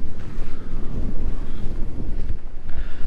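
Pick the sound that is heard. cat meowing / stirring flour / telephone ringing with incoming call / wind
wind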